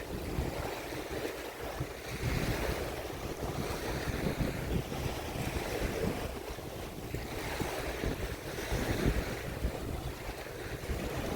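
Waves wash ashore at Kouri Beach in Okinawa on a cloudy, slightly windy day, a steady rushing surf mixed with gusty wind buffeting the microphone, continuous and fairly loud, with no talking.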